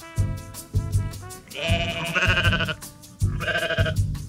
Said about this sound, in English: that's a big sheep